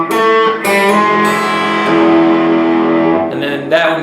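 A loud electric guitar plays a riff, sustained distorted chords and ringing notes with a short break and a final accented strum, heard alone.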